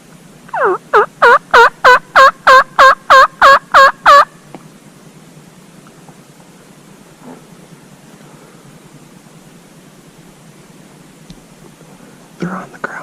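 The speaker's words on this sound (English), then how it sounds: "There's 3 toms in here gobbling." Wild turkey toms gobble on a spring hunt in the Oregon mountains. A loud, close, rapid gobble opens the clip, a hushed whisper follows over quiet woods, and a short call sounds again at the end.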